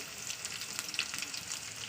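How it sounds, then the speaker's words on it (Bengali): Cut potatoes fry in hot oil over already fried onions in a pan, giving a steady close sizzle with crackling pops and occasional stirring. "আলুটাকে দেওয়ার পর না দু থেকে তিন মিনিট একটু তেলে ভাড়া করতে হবে"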